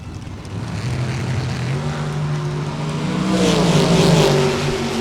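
A Race Tech chassis rear-engine drag car with a 598-cubic-inch Chevrolet engine roars loudly at a drag strip, its engine note climbing and swelling as it accelerates over several seconds.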